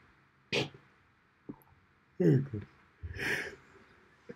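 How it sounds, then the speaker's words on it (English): A long, breathy yawn with a groaning voice, surrounded by short snorts and breaths, fairly close. "As he yawns, folks."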